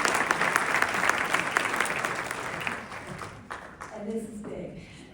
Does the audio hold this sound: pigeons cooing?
no